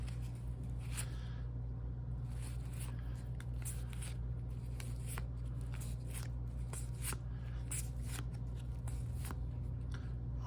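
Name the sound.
opening a 1990 Pro Set football card pack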